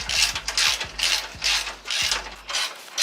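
A socket ratchet with a 19 mm socket turning bolts on a Mazdaspeed 3 skid plate, a close, rapid clicking pawl in quick bursts with short pauses between strokes.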